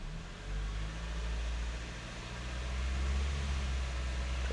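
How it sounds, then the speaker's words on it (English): A 2001 Nissan Silvia S15 Spec S engine held at a steady 2000 rpm, a low constant hum with a faint rise partway through, close by with no talking. "So first I'll start by letting it rev at 2 grand."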